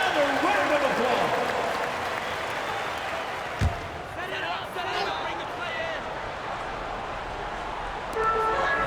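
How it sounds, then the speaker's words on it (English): Crowd applause in the basketball video game NBA 2K23 fills the background as a steady wash of clapping and cheering under an announcer's play-by-play, with a single sharp thump partway through. "Give him another round of applause."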